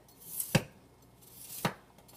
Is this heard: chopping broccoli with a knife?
yes